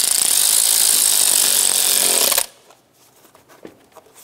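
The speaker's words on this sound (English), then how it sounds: "Tighten down this hose clamp." A loud power tool whirs steadily for about two seconds while tightening a hose clamp during knock sensor replacement on a 2012–2016 Subaru Impreza, then cuts off abruptly, leaving faint clicks and handling noises.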